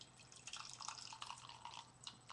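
Faint, irregular drips and trickles of Ti Kuan Yin tea as the first steeping is poured out, with small splashes scattered close by in a quiet room.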